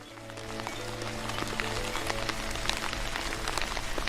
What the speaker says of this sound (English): that's some loud rain